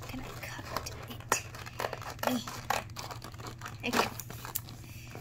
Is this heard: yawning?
no